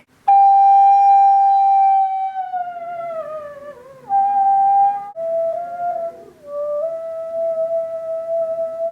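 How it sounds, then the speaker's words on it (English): A thin, pure whistle tone on a recorder, blown very softly to hit a harmonic, holds steady, then slides and shifts between a few pitches in separate sustained notes, clear and close with no other sound. "You play a whistle tone by actually blowing far too little to produce a note"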